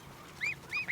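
Goslings twenty-seven days old give two short, thin honks close by over a quiet background.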